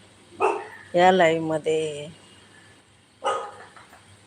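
A few sharp dog barks, close by, with a person speaking between them.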